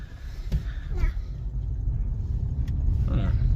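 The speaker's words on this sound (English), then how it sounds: "7-speed DSG, yeah, it really changes gears like nothing you've ever seen before" Audi A4 1.4 TFSI with a 7-speed DSG gearbox being driven: a low, steady engine and road rumble inside the cabin, with a voice speaking over it at intervals.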